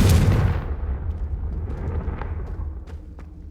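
A Confringo blasting spell goes off in Hogwarts Legacy, a loud booming burst at the start that rolls off into a long rumbling tail with scattered crackles.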